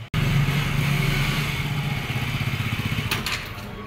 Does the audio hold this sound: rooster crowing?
no